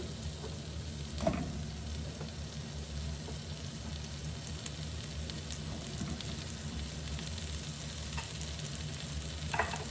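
Fennel and celery sizzle steadily in a hot pan for a vegetable terrine, a dense, even frying hiss with occasional stirring scrapes and clinks, close and continuous with no talking.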